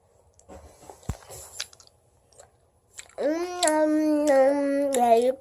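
Haribo gummy bear jelly chewed close to the mic: a few seconds of soft, sticky mouth clicks, then a loud, sustained hummed vocal tone takes over until the end.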